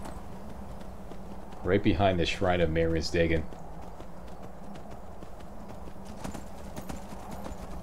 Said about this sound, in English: Do a little Skyrim horse climbing all the way up here